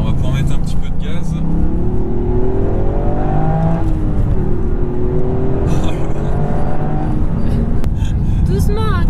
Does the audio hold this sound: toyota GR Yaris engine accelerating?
yes